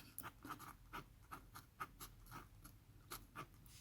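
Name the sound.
fountain pen writing on paper with Kyoto series Hisoku ink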